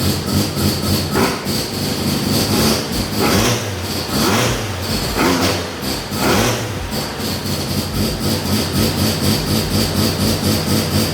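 A loud rotary car engine runs continuously with a rough, buzzing drone and periodic revving swells, close by and filling the whole clip.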